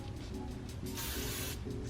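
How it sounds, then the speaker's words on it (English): Oribe Superfine hairspray sprayed onto a hair bun in one steady, close hissing burst lasting about half a second, with a few faint shorter puffs before it and quiet room noise underneath. "And then I'm using my Oribe Superfine hairspray"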